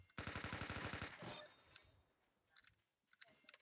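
Gunfire in the Roblox shooter game Arsenal: a loud, rapid burst of automatic fire for about a second, then a trailing crack and a few fainter scattered shots further off.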